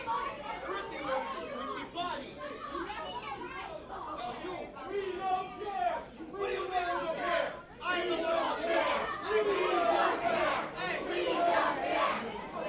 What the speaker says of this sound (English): the crowd trying to get into the head of somebody like Alejandro